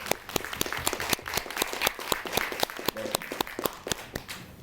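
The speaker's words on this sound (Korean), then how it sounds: "앞으로 이 두 배우가 더 열심히 연기하라는 의미에서 응원의 박수 한번 보내주시면 고맙습니다." Audience at a Korean film talk event clapping for two actors, a dense burst of many hands applauding steadily at moderate loudness throughout.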